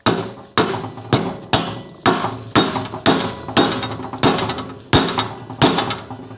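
A hammer drives an angled frame piece into place on a broken Tiger Cub motorcycle frame in a workshop: about a dozen sharp, ringing metallic blows at a steady, deliberate pace, close and loud, with no talking.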